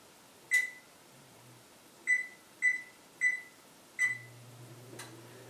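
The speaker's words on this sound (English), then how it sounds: "I'm going to turn on the oven to 375 so get it nice and hot" Electric kitchen oven being switched on and set to 375 degrees: a run of short, clear electronic beeps spaced about half a second apart, then a low steady hum as it begins heating, in a quiet room.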